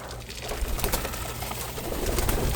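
Pigeons in their loft coo softly during feeding, low murmuring calls mixed with rustling and scratchy movement, fairly close.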